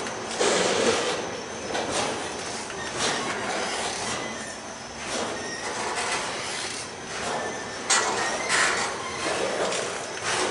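A near-silent passing freight or passenger train gives soft rolling rumble with recurring faint squeals and rubbing scrapes from the wheels, rising and falling across the whole stretch at moderate distance.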